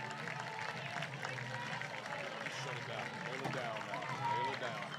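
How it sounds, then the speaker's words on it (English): Spectators at a Texas high school baseball playoff game applaud as the Conroe pitcher walks off in a pitching change. The clapping is a moderate, steady patter beneath a commentator's voice, which talks over it the whole time. "Round of applause from the Conroe faithful"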